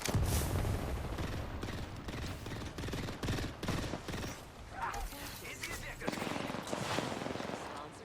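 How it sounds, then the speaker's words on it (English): A thermite grenade thrown in a shooter video game, heard amid dense, loud rapid gunfire and bursts that fill the whole stretch, with a voice talking over parts of it. "Throwing thermite grenade."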